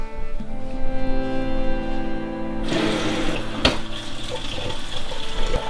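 Warm water runs from a tap into a container, a steady splashing rush that starts abruptly after a tonal hum and continues with a brief clunk partway through.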